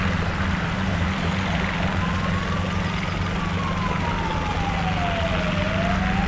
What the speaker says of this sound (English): Sirens coming in.